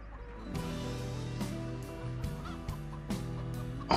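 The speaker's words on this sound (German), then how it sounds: "Oh, Barbara ist bei der Hühner." Chickens cluck and honk in the Farming Simulator 17 video game, a steady run of fowl calls over a low droning game background, with several sharp clicks, no speech.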